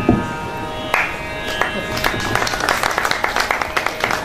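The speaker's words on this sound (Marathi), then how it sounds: "नंतर आपल्याला 50 टाळ्या वाजवायच्यात" Scattered audience claps during a rehearsal of a fifty-clap count at a kirtan gathering, sharp uneven hand strikes building from a few isolated claps into a denser ragged patter over a low room murmur.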